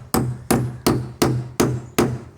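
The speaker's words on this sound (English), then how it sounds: "this knife is so heavy that you could easily use it as a hammer" A heavy ESEE 5 survival knife used as a hammer, striking five or six sharp, evenly spaced blows about every 0.4 seconds, close and loud with short ringing decays and no talking.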